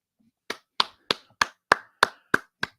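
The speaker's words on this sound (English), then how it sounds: "Well, real claps there." Eight sharp hand claps in a steady, evenly spaced rhythm, close and crisp against silence, with no voices.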